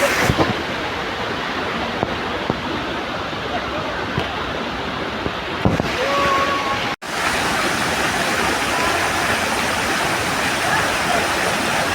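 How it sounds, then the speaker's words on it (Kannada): Loud, constant roar of a monsoon waterfall, a dense rushing wash with a faint brief voice-like tone partway through. "ನಾನಿವತ್ತು ಮಳೆಗಾಲದ ಅಪರೂಪದ ಫಾಲ್ಸ್ಗೆ ಬಂದಿದ್ದೇನೆ."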